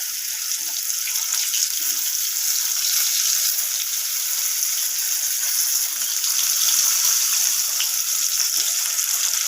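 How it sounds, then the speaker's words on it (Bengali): Pointed gourd pieces sizzling in the same hot oil just used to fry rohu fish, a steady, close, hissing fry that holds evenly throughout with no talk. "এরপর আমি ওই একই তেলের মধ্যে দিয়ে দিলাম কেটে রাখা পটলগুলোকে"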